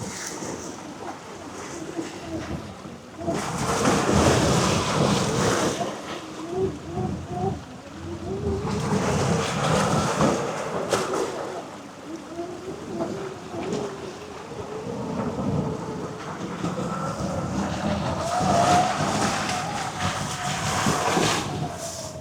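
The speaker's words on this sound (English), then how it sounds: "you just hear the tires squishing through the mud, the water rushing out of the way" Tires of a Polaris Ranger Kinetic electric UTV squish and churn through a mud pit, with water surging and rushing aside in loud, sustained washes that rise and fall over several passes, no talk.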